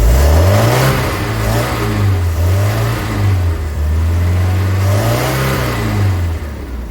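A Bayliner boat engine fitted with electronic ignition runs loud and close, its deep rumble rising and falling in gentle revs throughout.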